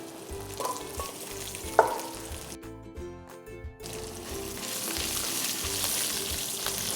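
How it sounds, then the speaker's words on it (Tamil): Dal roasting in a pan toward golden brown, a continuous close sizzle with a couple of spoon clinks early on and a brief dip in the middle before the frying hiss returns and swells. "பருப்பு கொஞ்சம் லைட்டாக ஒரு கோல்டன் ப்ரௌன் கலருக்கு வர வரைக்கும் ஜஸ்ட் வறுத்துருங்க"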